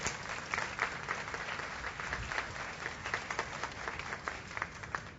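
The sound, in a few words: applause in church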